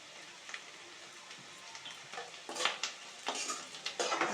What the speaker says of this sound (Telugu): ఇవి వేగుతున్నాయండి ఇలా దోరగా వేసిన తర్వాత